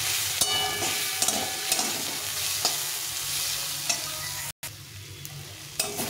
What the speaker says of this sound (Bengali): এখন আমি এর মধ্যে বেগুনটা ভেজে রেখেছিলাম, বেগুনটা দিয়ে একটু ভেজে নেব